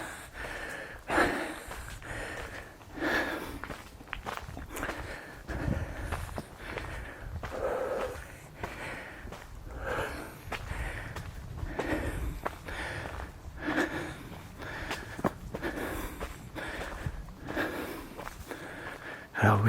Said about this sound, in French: Alors vous sentez à ma respiration que je force.